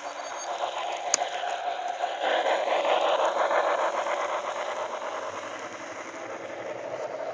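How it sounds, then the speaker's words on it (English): Stubborn, rough-running model steam locomotive, a faint, steady mechanical whirring and hiss with a fine rapid rhythmic chatter, a brief click early on, swelling slightly and then easing, with no voices. "It's a very stubborn locomotive, not my smoothest running"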